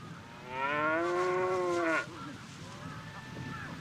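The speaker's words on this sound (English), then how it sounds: "A herd of cows seems to be the cause of alarm." A cow lets out one loud, drawn-out moo close by in a Kushiro Marsh meadow, the call ending abruptly and leaving a faint outdoor background with a softer distant lowing.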